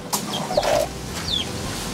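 Native chickens cluck near a nest of freshly laid eggs, a few short clucks and calls at moderate distance over a low background rumble.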